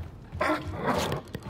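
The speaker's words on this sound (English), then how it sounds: "This feels like a good place to have two dogs," Dogs in the video game Wolfenstein give a couple of short, close growling barks over low game ambience.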